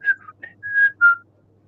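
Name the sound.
person imitating a whistle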